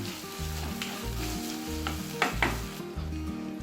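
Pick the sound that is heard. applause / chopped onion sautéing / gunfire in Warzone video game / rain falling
chopped onion sautéing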